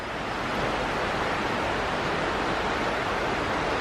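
River water pours steadily over a weir near the remains of an old forge and corn mill at Oughtibridge, a loud, dense, unbroken rushing roar filling the whole clip with no voices.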